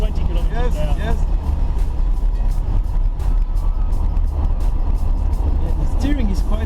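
1964 Corvette Sting Ray cruising at about 80 km/h, a continuous low engine and road rumble heard from inside the car while people talk over it.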